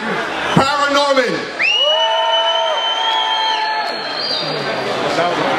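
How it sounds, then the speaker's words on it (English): A crowd at a sneaker event, a Dunkxchange Air Max Day gathering in San Francisco, yells, whoops and cheers loudly, with rising shouted voices sustained across the clip and a busy indoor hubbub beneath. "You guys are supposed to yell."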